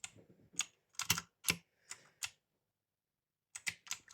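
A friend's mechanical keyboard being typed on, a handful of sharp, close key clacks in quick bursts with a pause before a final flurry, quiet overall.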